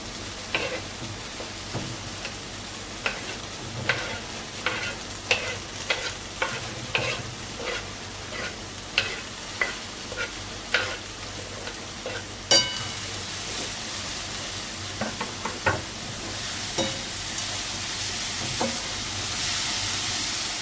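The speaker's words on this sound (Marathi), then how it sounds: "व्यवस्थित अशी परतून घ्यायची व्यवस्थित परतून घ्यायचे" Suran (elephant foot yam) leaf greens sauté in a pan, with a steady sizzle under repeated scraping spoon strokes that come every second or so, close and clear, with no talking.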